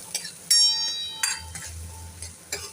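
Curry leaves with a crushed ginger, garlic and chili paste frying in hot oil, soft sizzling broken by several bright clinks of a spoon against the pan as it is stirred.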